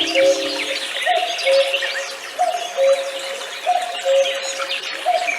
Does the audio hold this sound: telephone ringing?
no